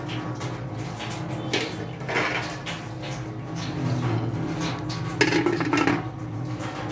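A metal lid clatters onto a cooking pot of sinigang with mackerel and vegetables, giving a few close scraping and clanking knocks over steady kitchen background noise.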